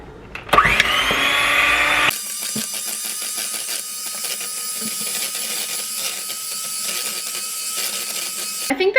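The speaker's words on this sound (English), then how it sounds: "Electric mixer time." Electric hand mixer whirring through keto pumpkin protein pancake batter made with heavy whipping cream, starting with a rising whine and then running as a steady close drone with slight rattling for several seconds before cutting off.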